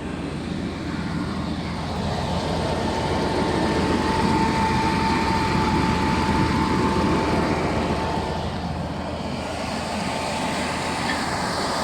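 A 2000 Cadillac Escalade engine idles steadily while warming up, a continuous low rumble with no oil leaks reported, holding even throughout with no talk over it.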